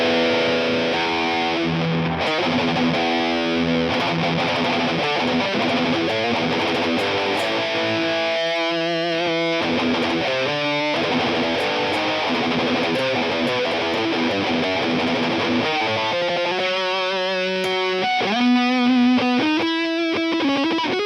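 A Gibson Les Paul Custom plays heavily distorted electric guitar, sustained chords and riffs ringing out loud and continuous with shifting notes throughout, no talking over it.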